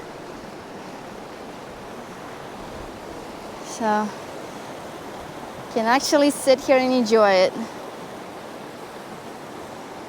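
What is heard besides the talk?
river flowing near Carson River hot springs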